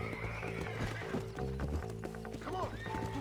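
In Red Dead Redemption, a horse's hooves clip-clop at close range and the horse whinnies, under a steady game music background, with a little speech nearby.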